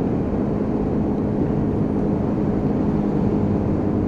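A Royal Alloy GT125 scooter rides around a roundabout, a steady close engine drone blended with heavy wind rush, continuous and even throughout with no voices.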